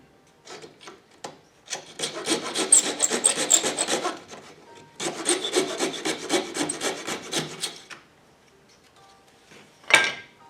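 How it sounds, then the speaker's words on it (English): A drill bit twisted by hand bores through a small wood block, with rhythmic dry scraping and rasping in two long bursts separated by a brief pause, close and moderately loud, ending in one sharp knock. "put the tip of the drill bit right where the point is, and twist and push down at the same time"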